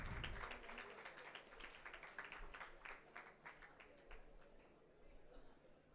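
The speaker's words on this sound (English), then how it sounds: "Let's have a round of applause for all our speakers." A conference audience claps for the speakers, a continuous patter of many hands heard faint and distant, with a hall's roomy echo and a low background hum.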